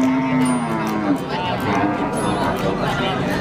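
Cattle lowing at a midday livestock market where PO cows and other cattle are kept, with loud moos rising over a busy crowd and people talking nearby.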